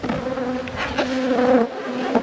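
Honey bees buzz around a beehive nuc, a close, continuous droning hum with a steady pitch and small wavering swells, no voices.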